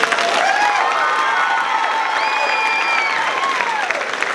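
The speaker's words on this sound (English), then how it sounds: "How about a round of applause for her?" A school or community theater audience at a How the Grinch Stole Christmas show claps steadily and loudly throughout, with a few cheers and whoops mixed into the dense applause.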